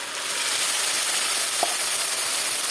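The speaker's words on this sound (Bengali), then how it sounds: "এবার এগুলোকে লাল লাল করে ভেজে নেবো" Onions with a ground paste of green chilli and ginger frying in a pan, a steady close sizzle throughout with one brief stir click midway, no talk.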